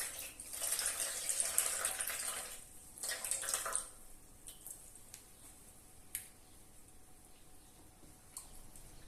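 Wool being put into a bowl of water with vinegar to soak, with a few seconds of splashing and trickling at first, then quieter faint drips and small wet sounds.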